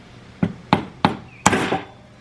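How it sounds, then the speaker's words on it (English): A wooden dowel strikes a part of a Stihl MS291 chainsaw during a high-compression piston repair, giving four sharp close knocks, the last doubled, with brief hollow ringing tails and quiet between hits. "I'm going to try to hit this with a wooden dowel."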